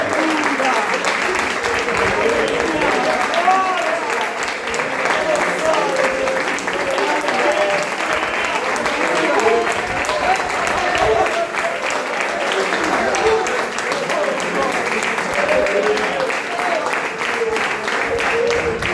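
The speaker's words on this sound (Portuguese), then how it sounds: "Aplauda o Senhor Jesus." A church congregation applauding continuously during a family worship service, dense sustained clapping filling the room, with voices and a preacher speaking over it.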